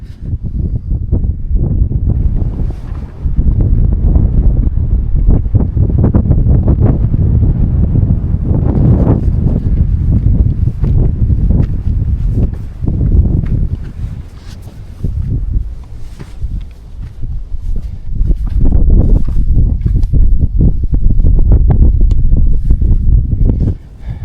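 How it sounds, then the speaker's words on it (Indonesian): Strong wind gusts across a high trail on Mount Merbabu via the Cuntel route, roaring loudly into the microphone in long surging waves that ease and return. "Anginnya cukup kencang."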